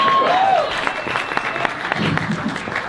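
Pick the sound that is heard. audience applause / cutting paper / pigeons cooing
audience applause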